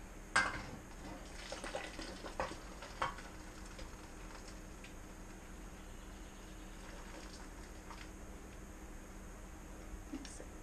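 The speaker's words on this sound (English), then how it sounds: "we're going to pull our jars out of the canner" Glass canning jars lifted from a water-filled canner give a few faint clinks and drips in the first three seconds, then the room goes quiet.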